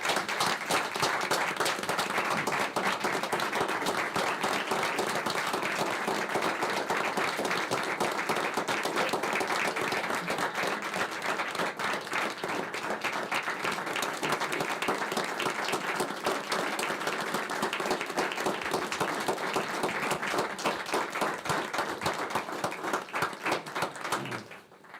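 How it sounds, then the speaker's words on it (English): A township meeting audience gives sustained, dense applause that runs steadily for about twenty-five seconds before tapering off at the very end. "Let's give them a real round of applause"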